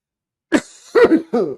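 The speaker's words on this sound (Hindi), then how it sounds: "खांसी होगी तगड़े वाली।" A few harsh, throaty coughs sound close up, one sharp burst followed by a pair of rougher hacks, with silence before them.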